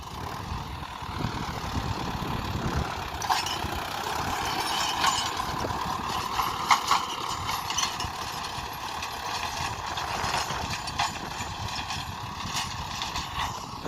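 A 55 HP tractor ploughing a farm field in Gujarat, its engine droning steadily and close with a low rough rumble, occasional clanks and bumps breaking through the continuous noise.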